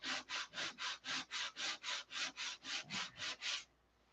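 Fourteen even back-and-forth strokes of sandpaper rasp against wood in a steady rhythm, close and clear, then stop.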